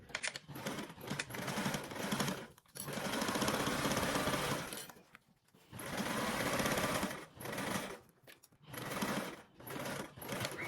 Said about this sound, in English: we are now going to sew both of our long edges with a 3/8 seam allowance